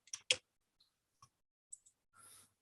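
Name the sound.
mouse click on a button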